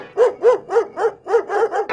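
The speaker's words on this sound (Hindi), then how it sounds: "एक दिन उस पर कुत्ते ने हमला कर दिया" A dog barks repeatedly while attacking, giving seven sharp, evenly spaced, fairly close barks with a yelping, whimpering edge and no talk.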